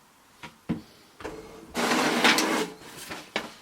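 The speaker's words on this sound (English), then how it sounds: "we wait for the printer to print the document" An HP printer, connected by OTG cable rather than wirelessly, prints a document: a few short mechanical clicks and whirs, then a louder sustained grinding feed run, ending in brief clunks, with no talk.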